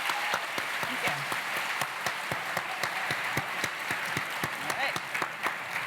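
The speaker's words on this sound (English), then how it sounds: "give a round of applause to the 3 panelists and say thank you" An audience at a cystic fibrosis medical and research panel claps for three panelists, steady applause with crisp individual claps running throughout at a fairly even volume.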